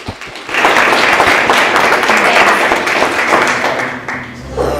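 An audience clapping together at a university design talk, a dense and loud wash of applause that swells after an opening tap and holds steadily for several seconds before easing off.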